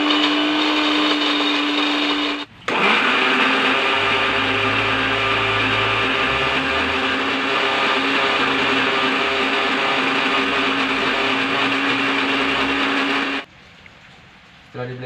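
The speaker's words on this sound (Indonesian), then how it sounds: "Blender." Electric blender grinding red ginger with water, a loud steady whirring roar that starts abruptly, runs continuously for about ten seconds with a brief cut near the start, then stops.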